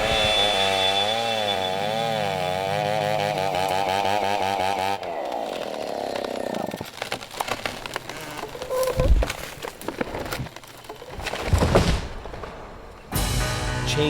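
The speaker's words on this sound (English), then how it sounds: "comes with the roar of the chainsaw." A chainsaw roars in a Borneo rainforest, its loud, steady engine drone running for several seconds before breaking into rougher cutting bursts with scattered thuds and knocks.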